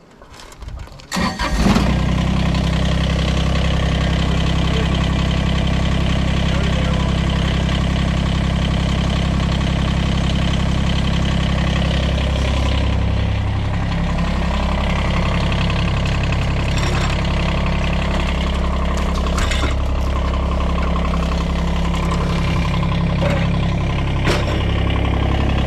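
A Kubota BX compact tractor fitted with a snow plow cranks, catches and settles into a steady, loud close-up idle that runs on unchanged.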